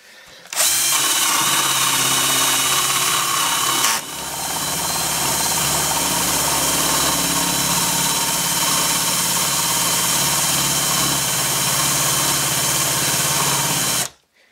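A drill fitted with a 35 mm Parkside Forstner bit bores into wood with a loud, close, continuous whine. It starts abruptly, dips briefly partway through, then runs steadily until it stops at the end.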